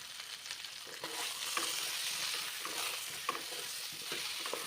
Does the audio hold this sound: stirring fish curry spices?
yes